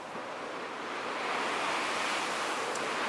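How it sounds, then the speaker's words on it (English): Ocean waves rolling into Tampa Bay at St. Pete Pier amid heavy wind and rain ahead of Hurricane Milton, a loud continuous broadband roar of surf and gusting wind, with no voices. "from here we can really see what the ocean is doing."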